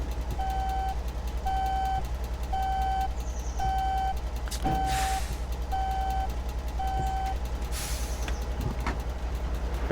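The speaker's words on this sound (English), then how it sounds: "We'll leave the truck running." Truck engine left idling in Alaska, a low steady drone beneath a regular series of reversing beeps, with a couple of brief hissing bursts.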